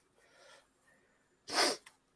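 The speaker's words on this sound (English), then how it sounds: "hear me sniffling" One sharp, loud nasal sniff bursts out near the middle, after a soft breath earlier, with quiet room sound around it and no speech.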